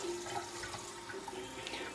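Water runs steadily from a kitchen tap while dishes are being washed, a continuous close splashing hiss with no talk over it.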